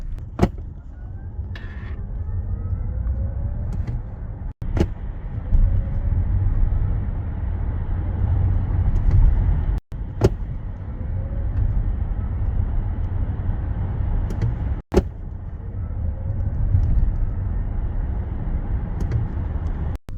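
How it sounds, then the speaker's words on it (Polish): A Citroen C4 X Shine hatchback accelerating hard on the road, a steady loud engine and road roar that holds for about twenty seconds, broken by brief sharp gaps, with no talking. "Jak widzieliście, auto przyspiesza ładnie, no ale nie ma takiego kopnięcia, jak to właśnie bywa w elektrykach."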